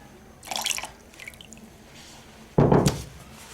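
Water drips and splashes while rasam balls are filtered, with a short burst of splashing followed by a louder, heavier pour of liquid, close by and without speech.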